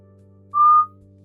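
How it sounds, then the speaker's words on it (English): A single short whistled note, held steady and slightly off pitch, rising clearly above a low background hum for under half a second before stopping. "I don't know how you whistle off key"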